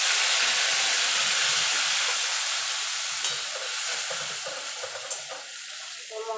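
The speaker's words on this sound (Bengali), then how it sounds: "মশলাটা একটুখানি নাড়াচাড়া করে নেব মিনিটখানি।" Spice paste frying in oil with cumin in a pan, a close, steady sizzle and hiss with soft stirring scrapes, gradually easing in loudness toward the end.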